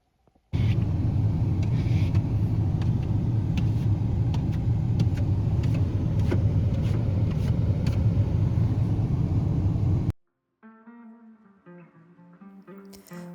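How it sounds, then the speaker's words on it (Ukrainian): A car drives on a frosty winter dawn at minus 12 degrees, its engine and road rumble a steady, loud drone heard from inside for about ten seconds before cutting off abruptly, followed by soft tonal sounds. "машину закував мороз, ми її розморозили, ну тобто чоловік, і їдемо зустрічати світанок"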